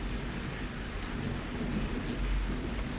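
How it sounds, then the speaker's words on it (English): Steady, dense rain pours down while low thunder rumbles continuously underneath, a full, enveloping storm wash with no voices. "listen to the comforting sounds of rain and thunder"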